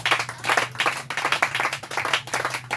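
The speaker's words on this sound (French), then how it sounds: "Acclamons le Seigneur." A church congregation clapping together in acclamation of the Lord, dense rhythmic handclaps from many people in a hall, loud and steady throughout.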